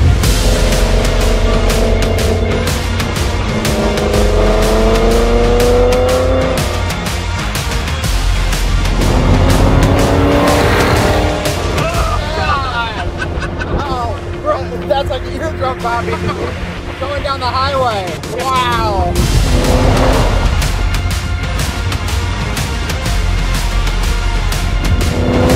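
A Mercedes-AMG GT Black Series engine revving hard, loud rising and falling howls with sharp pitch sweeps through gear changes, heard close from inside or beside the car, with people talking over it at times.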